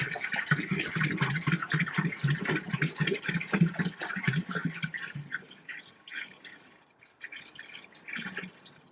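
Water from drums is poured into a DI water storage tank, a close, irregular splashing and glugging that thins into sparse drips, with no talk.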